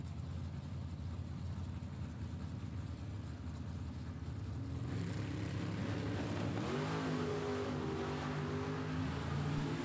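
A drag racing truck launches down the lane at a Super Pro bracket race: a steady engine rumble swells sharply midway into a loud, rising roar as it accelerates, with the track ambience all around.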